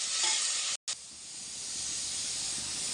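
Tomatoes drop into hot dal in a pan and are stirred in, giving a loud, steady sizzling hiss that breaks off for an instant and then continues close by.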